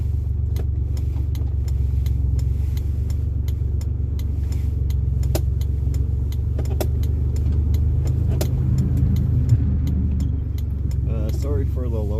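A 1989 Chevrolet Sprint drives along with its small engine running steadily throughout, a constant low road and engine rumble, with occasional light clicks and rattles inside the cabin.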